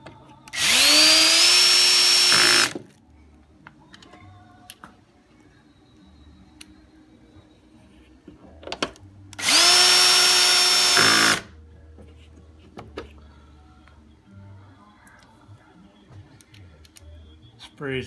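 Power drill backing screws out of a GMC Yukon tail light, two loud whirring bursts of about two seconds each, separated by quiet clicks and handling noises, with someone speaking.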